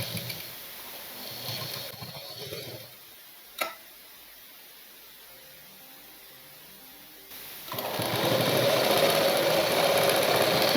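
A sewing machine stitches blouse lining fabric, a close, steady whir at the start that falls into a quiet lull with a single sharp click, then resumes louder near the end.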